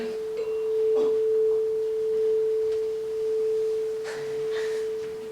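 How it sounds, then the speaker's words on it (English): Two tuning forks ring together as one steady, pure tone whose loudness swells and fades in slow, even beats, with no voices. "We have two tuning forks."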